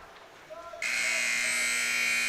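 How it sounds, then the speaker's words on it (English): At a junior varsity hockey game in an arena, a loud, harsh horn starts suddenly and holds steady to signal the end of a period, preceded by a faint crowd murmur and a brief whistle-like tone. "The buzzer sounds, and this second period comes to a close."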